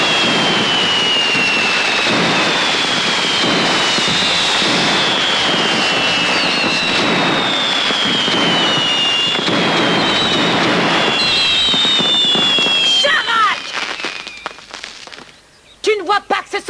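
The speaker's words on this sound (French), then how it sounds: "Tu ne vois pas que ce sont des jouets, des pétards?" Firecrackers going off in a dense, continuous barrage with whistling, rising streaks and crackling bursts. After about thirteen seconds it thins into a few scattered pops.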